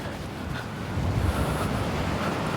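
Sea waves rolling onto a beach on the coast between Mathalan and Mullivaikkal, a steady broad wash of surf mixed with gusting wind across the microphone, growing slightly louder partway through, with no voices.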